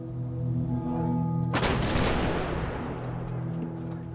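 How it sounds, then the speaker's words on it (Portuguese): An M1A1 75 mm pack howitzer fires a single loud, close artillery shot, with a sharp blast that rolls off into a long fading rumble, after a low engine-like hum. "A artilharia a qual estou na frente é um M1 A1 75 PEC Howitzer."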